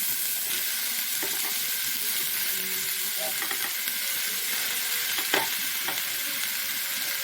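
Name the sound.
prawns frying and being stirred in a pan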